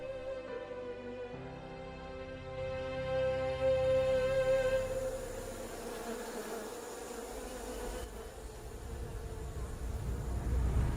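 Giant honeybees swarming around their hives on a forest tree among dendrobium flowers make a soft, steady buzzing that hums quietly throughout, with sustained musical tones at the start.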